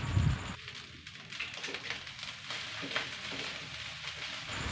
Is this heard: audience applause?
no